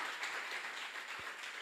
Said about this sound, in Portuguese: Dê um aplauso a Ele.